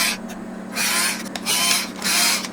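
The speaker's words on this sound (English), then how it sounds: "Let's get this cable tidy off there." A cable tidy is pried off a board inside a Pioneer LaserDisc player. Three bursts of close, raspy scraping and rubbing come over a steady electrical hum.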